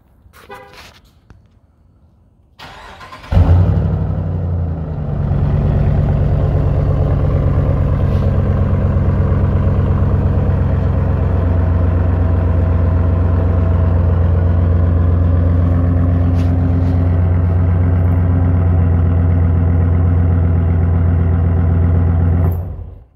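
A RAM 1500 TRX pickup fitted with new 5-inch exhaust tips fires up after a few seconds of quiet, then settles into a loud, steady, deep idle rumble that holds close and unbroken to the end.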